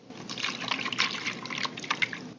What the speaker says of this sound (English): McDunn pours 2 cups of coffee for them both.